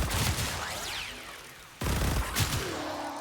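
Tenet Diplos weapon fire in Warframe: rapid, whooshing projectile bursts with a sharp crack near the middle, close and fairly loud, with synthetic sweeping tones trailing each volley and no speech.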